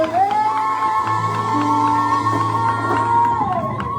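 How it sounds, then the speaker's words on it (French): Sunday church congregation cheering and acclaiming God, a sustained loud crowd roar with a long held voice tone and other voices layered beneath, continuous from start to end. "les acclamations encore pour notre Dieu"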